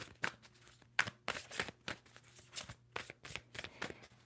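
A deck of tarot cards is shuffled by hand at close range, with a run of crisp riffling and flicking bursts in an uneven rhythm, about a dozen quick card slaps with no talking.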